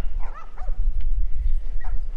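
A dog in The Last of Us video game barks and gives a short whimpering yip, close and fairly loud over a low rumbling game background.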